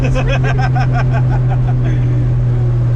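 A Toyota Supra MKIV engine drones loudly through a gear change, a steady low engine tone under rapid rhythmic revving pulses that fade out, heard from inside the car with a voice talking over it.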